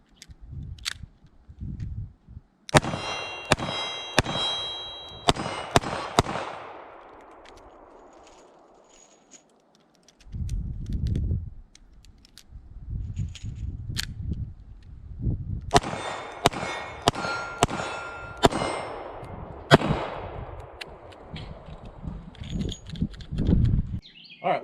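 A Colt Detective Special .38 revolver fires in two bursts at steel plates about 15 to 18 yards away, with sharp bangs followed by ringing metallic clangs, and quieter handling noise between the bursts.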